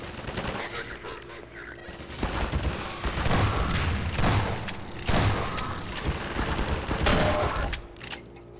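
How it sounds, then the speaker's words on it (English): Gunfire crackles through a prison fight in Half-Life 2, with several loud, sharp shotgun-style bursts spread through a busy, noisy stretch of combat. "I chose to make a double blast because that would hurt more"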